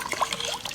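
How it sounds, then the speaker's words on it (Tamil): Rice-washing water being poured into a pot of goat leg curry, a brief steady liquid trickle and splash, close and alone. "அரிசி கழனி தண்ணி இருக்குல்ல, அந்த தண்ணியை ஊற்றி"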